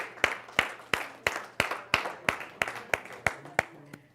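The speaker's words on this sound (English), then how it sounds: "give them a hand" Rhythmic clapping of roughly a dozen sharp, evenly spaced claps, loud and close, in a slow steady beat as the audience gives a presenting group a hand.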